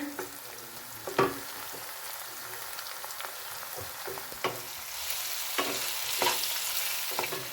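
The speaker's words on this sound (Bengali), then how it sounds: "পেঁয়াজ রসুন আদা ভাজা ভাজা হয়ে গেছে" Chopped onion, garlic and ginger frying in oil for a rajma curry, a soft steady sizzle punctuated by sharp scraping stirs of a spatula against the pan at irregular intervals.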